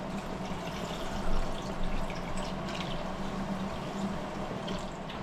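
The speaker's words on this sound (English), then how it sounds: "Now we add in the juice" Tomato juice and water pour into a cooking pot in a steady, even, dense splashing wash that runs unbroken for several seconds at moderate loudness.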